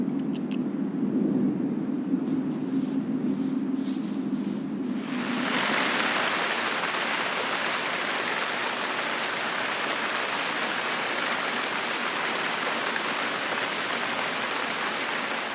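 Steady rain falls in autumn Iberian wild country, a dense even hiss that swells after a few seconds and continues alone and fairly loud to the end.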